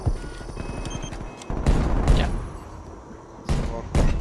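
Gunfire from a first-person shooter video game comes in several loud bursts separated by brief pauses, with a faint hum running underneath.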